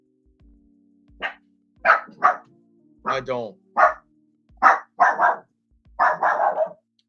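Neighbourhood dogs barking in a run of sharp, loud, close barks, roughly eight distinct bursts spaced unevenly, with a brief word of speech at the start.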